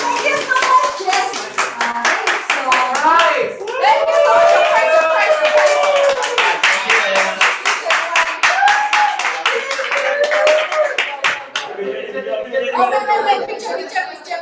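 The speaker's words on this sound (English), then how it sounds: "Give me one round of applause." A small group at a creative food swap gathering claps in a brisk round of applause, sharp hand claps mixed with excited chatter and talking voices throughout.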